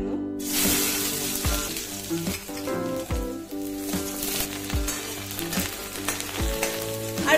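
Chopped garlic frying in coconut oil for an egg and tomato soup gives a steady, close sizzle with stirring scrapes and clinks recurring through the clip, and no talk.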